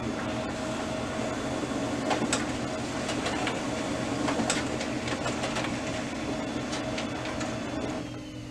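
A Dell E515 printer runs off a settings report with a steady mechanical whir and hum, with light clicks and ticks scattered over it and no talking.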